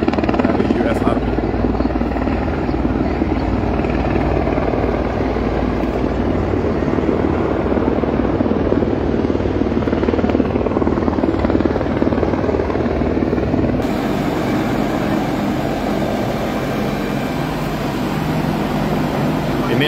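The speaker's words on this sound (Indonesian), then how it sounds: "3 helikopter" Three US Army helicopters at a military training ground in East Lombok, rotors producing a loud, steady broadband thrum that persists throughout, with voices talking faintly underneath.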